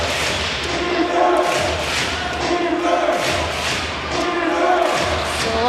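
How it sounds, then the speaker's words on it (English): A home crowd of Formosa Dreamers fans roaring loudly in a gym during a basketball playoff game against the Hsinchu Toplus Lioneers, a steady dense wash of cheering with rhythmic thuds of clappers and a commentator talking over it. "the Formosa Dreamers crowd gets loud here"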